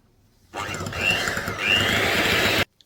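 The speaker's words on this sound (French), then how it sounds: "Et on va mixer une fois de plus." Electric mixer blending coconut cake batter, starting abruptly with a loud whirring buzz, pitch rising and dipping slightly as it runs steadily for about two seconds before cutting off.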